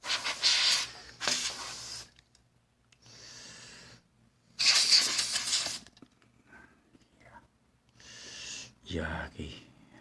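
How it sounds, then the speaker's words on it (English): Cleaner spray is shot into an old computer case in several sharp, hissing bursts of about a second each, close and loud, alternating with a person talking. "I know I'm spraying it right into the case"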